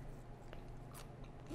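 Someone bites and chews fresh, crunchy mung bean sprouts, giving soft crisp crunches at close range over a low steady hum, with no talking.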